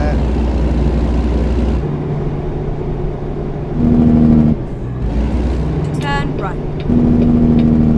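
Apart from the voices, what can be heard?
Kenworth K100E truck engine in American Truck Simulator video game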